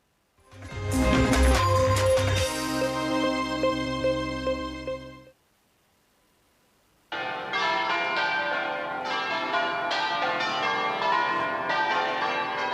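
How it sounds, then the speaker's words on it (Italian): Church bells of a parish church peal festively for a funeral in Tezze, several bells clanging together loudly with ringing overtones, falling quiet briefly before a second round of bright, overlapping strikes resumes. "Le campane a festa accolgono il feretro davanti alla chiesa parrocchiale."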